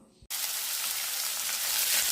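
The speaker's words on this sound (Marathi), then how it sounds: "कढईमध्ये तेल टाकून लसणाची फोडणी दिलेली आहे" Garlic tempering dropped into hot oil in a kadai, bursting into a loud, dense, continuous sizzle right after a brief quiet start.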